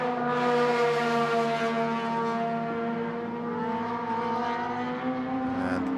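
Tires of Honda Jazz touring cars squeal and drone in long sustained tones while dragging around corners at a Malaysia Championship Series race, steady and fairly loud with slight pitch shifts throughout.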